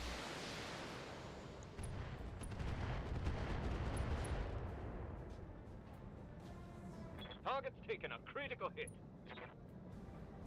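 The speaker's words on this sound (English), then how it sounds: "Then lob the missiles." Mech missile salvo in BattleTech, a heavy rolling barrage of launches and blasts building loud in the first seconds, then easing into a rumbling bed under later bursts and a person talking.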